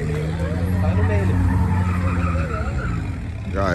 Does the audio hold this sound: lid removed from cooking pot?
no